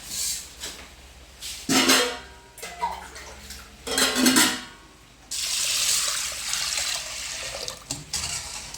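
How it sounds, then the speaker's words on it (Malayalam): Water is poured over 250 grams of lentils in a pot for dal, coming in several separate splashing pours followed by a longer steady rush of water. "അപ്പൊ ഇതില് കുറച്ച് വെള്ളം ഒഴിച്ചിടാം."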